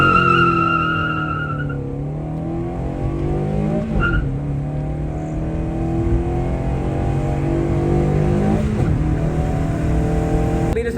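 A modified car launches hard from a standstill in a 0 to 100 run, its engine climbing steadily through rising revs with gear-shift dips, loud and close throughout with no talking.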